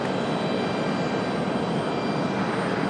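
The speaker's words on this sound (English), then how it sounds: "Raleigh Tower, turn right heading 310, runway 23 left, clear for takeoff." A fixed-wing airplane takes off from runway 23 left at Raleigh-Durham International Airport, a steady, loud broadband engine roar that holds constant throughout without any voices.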